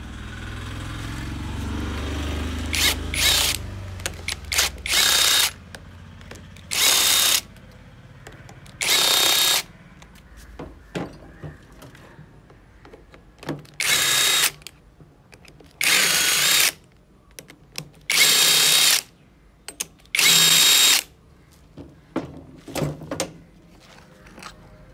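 Power tool unscrewing the clutch-side cover bolts on a Hero Passion or Splendor Pro motorcycle engine during an overhaul, several short loud whirring bursts separated by quiet pauses, close up with no talk.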